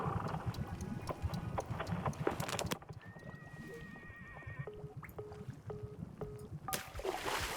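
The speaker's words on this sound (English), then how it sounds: "playing horse sounds." Tinny recorded horse sounds, clopping hooves and whinnying, play from a phone speaker, followed by a few quiet beeps and clicks.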